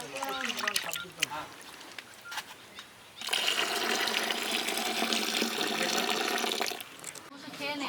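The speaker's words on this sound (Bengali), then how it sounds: "ডালটা ভাজা হয়ে গেছে জল দিয়ে ধুয়ে নিচ্ছি ডাল ধোয়া" Water pours and splashes steadily for a few seconds as fried lentils are rinsed in a kitchen while cooking for a picnic, following a stretch of speech and clatter.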